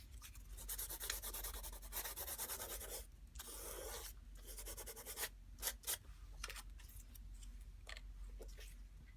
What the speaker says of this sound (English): you could even come in with your sandpaper and sand onto whatever it is that you've added